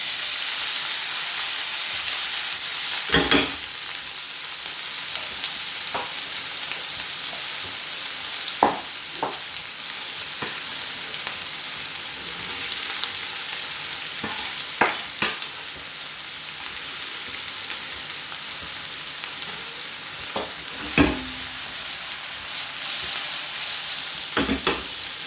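Food frying in oil in a pan for a quick pasta dish, a steady bright sizzle and hiss throughout, punctuated by occasional clanks and scrapes as it is stirred, no voices.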